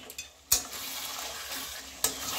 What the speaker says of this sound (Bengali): 2 মিনিট পরে আবার ঢাকনাটা খুলে আমি আবার একটু নাড়বো